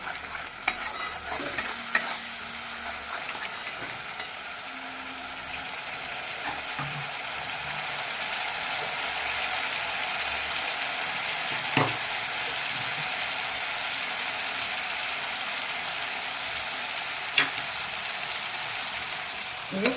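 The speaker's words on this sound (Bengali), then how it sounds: "এইটা দিয়ে আমি তরকারিটা খুব ভালো করে কষাবো।" Curry cooked down in a pan with ground poppy seed paste, a soft continuous sizzle with occasional scrapes and clinks of the spatula, moderately quiet and steady throughout with no voices.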